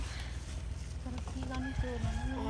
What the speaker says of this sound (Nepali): भाले हेर त लोकल भाले